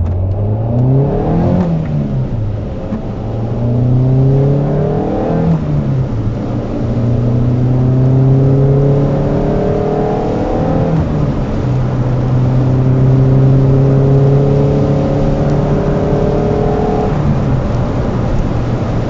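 A Peugeot GTI 16S car engine with a new head gasket, freshly serviced, revs hard through repeated accelerations, each rising whine climbing in pitch before a gear change, loud and close with no talking.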